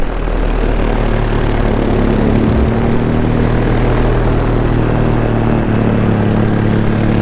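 Paramotor engine and propeller droning loud and steady throughout a paraglider flight on an Ozone Alpina 3 wing, a dense buzzing roar with a low steady hum beneath and wind rushing past.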